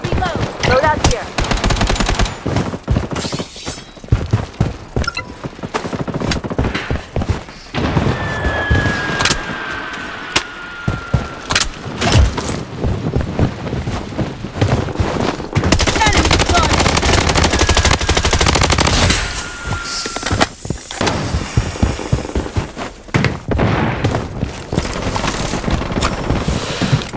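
Rapid automatic gunfire from an AUG and a P90 in a first-person shooter video game, dense bursts running nearly continuously and loud throughout, with short gaps between strings of shots.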